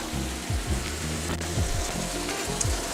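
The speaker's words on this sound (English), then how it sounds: "we're going to let this sear for about 2 minutes" Chicken pieces searing in a hot wok give a continuous close sizzle and crackle with low rumbling underneath, no talking.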